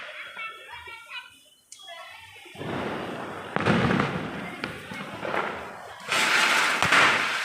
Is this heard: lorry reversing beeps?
no